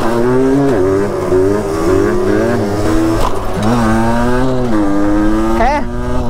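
A troublesome Gilera 50cc moped engine revs up and down close by, its buzzing pitch rising and falling repeatedly, with a voice faintly mixed in.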